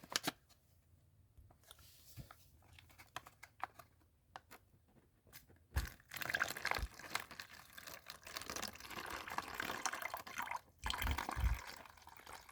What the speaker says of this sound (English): Let's add us our water.